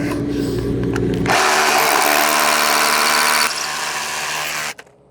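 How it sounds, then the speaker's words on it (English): A cordless power drill whirs loudly for a few seconds, boring a hole while forming wood to concrete, then winds down and stops. "after I get this hole drilled out here"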